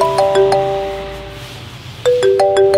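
A mobile phone ringtone plays a short bright melodic phrase twice, loud and close, with a brief pause between the repeats.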